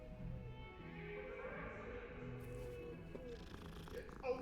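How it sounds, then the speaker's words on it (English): A cat purrs in the video game Hogwarts Legacy, a faint, steady low rumble that runs under background game music and ambience, with a brighter rustle near the end. "Ooh, cat."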